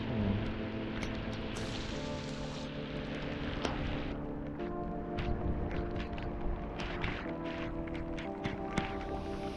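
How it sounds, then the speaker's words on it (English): Steady rain patters and splashes on surfaces, with scattered sharper drops and a constant background hiss of rainfall throughout. "This is just like real like spurty rain,"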